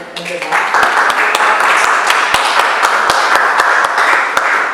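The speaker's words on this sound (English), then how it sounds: "Should we have a round of applause for Margarida?" An audience at a writing competition awards ceremony applauds a second-place student poet, with distinct sharp individual claps standing out over a moderate, fairly close crowd of clapping hands.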